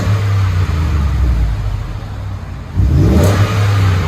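A Ford F-150 5.0L Coyote V8 with Magnaflow exhaust rumbles loudly at idle, then revs up with a deep, throaty exhaust roar before settling back to a steady burble.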